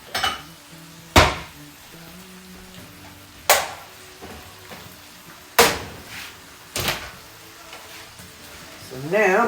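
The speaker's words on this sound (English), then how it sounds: "So now I'm going to put it in my bowl and hopefully not spill it." Food being ladled into a bowl at home: four sharp clinks and knocks of utensil against bowl spaced a few seconds apart, with soft scraping between them, close up and without talk.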